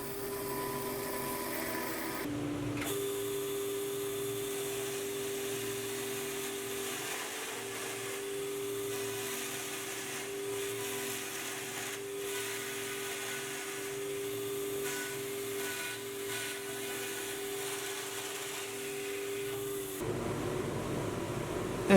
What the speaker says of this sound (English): We're using the chain here for the rails, and you'll see we use the chisel for the bar work.